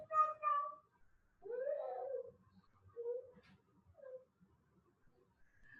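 A kitten meows a few times indoors, each call short and clear and close by, separated by quiet gaps with faint background sounds and no talking.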